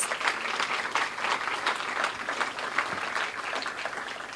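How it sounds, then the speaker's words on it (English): Press conference audience applauding community and clergy partners in Newark, a steady wash of many hands clapping at moderate level, unbroken and without speech. "Let's give them all a round of applause"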